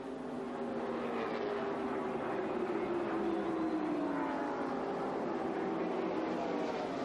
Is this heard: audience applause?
no